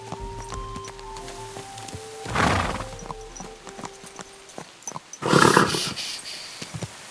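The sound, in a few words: horse in Kingdom Come Deliverance II video game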